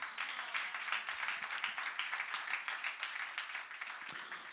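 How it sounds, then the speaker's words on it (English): Church congregation clapping hands during a Sunday worship service, a continuous, fairly dense round of applause from many people, steady and somewhat distant, with no speech over it. "Give the Lord a hand clap."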